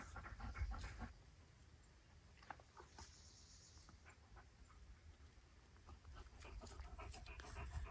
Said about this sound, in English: Other than the dogs panting.